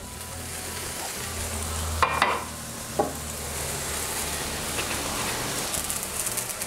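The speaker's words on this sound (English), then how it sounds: "into our frying pan, we're going to put our mustard and cumin seeds in with 2 tablespoons of oil." Mustard and cumin seeds frying in oil in a pan give a steady, close hiss and sizzle, with two brief clattering bursts of stirring partway through.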